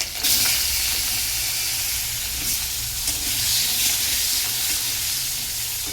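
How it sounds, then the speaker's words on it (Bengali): Potatoes and green chilli fry in hot oil tempered with black cumin, giving a loud, steady sizzle and hiss with some stirring, close up and with no talking. "দেখো তেলের মধ্যে কালো জিরে দিয়েছি, এবারে কাঁচা লঙ্কাটা দেব, দিয়ে আলুটা দেব।"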